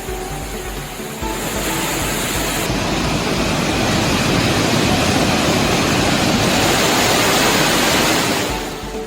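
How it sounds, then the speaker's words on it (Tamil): Kumbakkarai waterfall near Periyakulam in flood after heavy overnight rain, a steady, loud broadband roar of rushing water that swells in after about a second and holds close and unbroken before easing at the end. "பெரியகுளம் அருகே உள்ள கும்பக்கரை அருவியில் நள்ளிரவில் இருந்தே நீர்வரத்து அதிகரித்து வெள்ளப்பெருக்கு ஏற்பட்டது"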